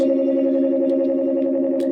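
A sustained electronic tone from sine wave units on an ER-301 Sound Computer holds steady with layered harmonics and a slight effected shimmer, loud and continuous with no voices.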